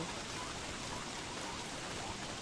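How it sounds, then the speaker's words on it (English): Steady rain in the video game Don't Starve: a soft, even hiss of falling drops with no talk, faint and unbroken throughout. "Rain."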